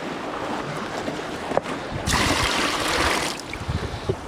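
Water is poured into a fish cooler aboard a boat on the Irish coast, a rushing splash that swells and holds for about a second over a constant background of wind and sea.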